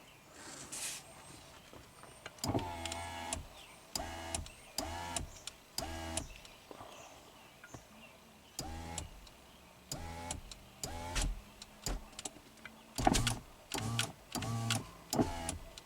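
A Subaru power window motor, rigged at battery voltage with the window sticking about an inch up, whirs in a string of short bursts separated by pauses, each run a mechanical buzz with clicks at start and stop, fairly close.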